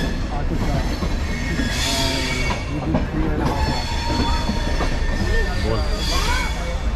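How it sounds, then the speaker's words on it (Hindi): A passenger train pulls into a New Delhi railway station platform, with a close, continuous rumble, wheel clatter and repeated high metallic squeals from the wheels. "अब हमारी ट्रेन नई दिल्ली रेलवे स्टेशन पहुंचने वाली है।"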